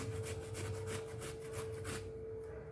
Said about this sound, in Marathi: छोट्या किसणीने आपल्याला हे अद्रक छान असं किसून घ्यायचं आहे